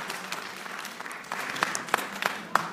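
Scattered applause from an audience at a public evening event in Gorna Oryahovitsa, fairly quiet and thin, with a few louder close claps punctuating the clatter.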